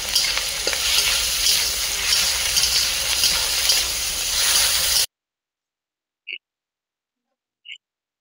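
Chopped tomatoes with ginger paste sizzle and hiss steadily while being sautéed and stirred in a pan in a village kitchen, filling the first five seconds before falling to near silence with two short faint sounds.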